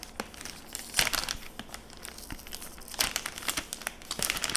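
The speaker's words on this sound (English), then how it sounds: "Let's open up this plastic bag." A plastic bag is crinkled and torn open while unboxing Stax SR-X9000 flagship headphones, giving close, bursty rustling and crackling with sharp louder crunches near the start and again midway.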